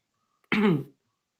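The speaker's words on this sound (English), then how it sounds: "Cough" A single short cough, close and fairly loud, surrounded by near silence.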